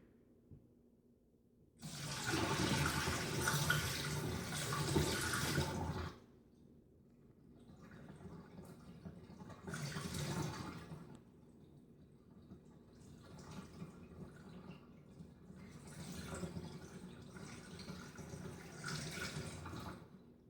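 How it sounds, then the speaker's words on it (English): Water poured off a bowl of soaking strawberry seeds in several bursts, a loud splashing stream first, then quieter trickles and pours separated by short pauses. "Now you can pour some of the top layer off where the seeds will still be settled"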